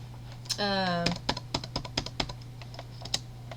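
A color code is typed on a computer keyboard, a quick series of close, crisp key clicks in an irregular rhythm after a brief tone, with no talk over it.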